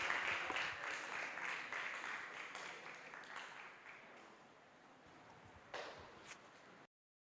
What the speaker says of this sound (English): Can we have a round of applause for Sania Noor as she comes up on stage